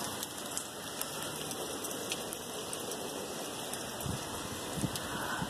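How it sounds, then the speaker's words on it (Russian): Heavy rain mixed with hail pours down in England, a steady dense hiss of drops on surfaces with occasional sharper pattering impacts, fairly quiet and with no voices. "Смотрите, друзья, град."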